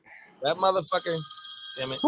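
An old wall-mounted rotary telephone rings in a steady electronic trill, with a man swearing loudly over the start of it and the ring continuing alone afterward.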